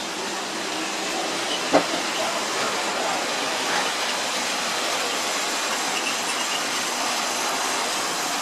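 A model train runs steadily along a track with a continuous rolling rumble and hiss, broken by one sharp click early on.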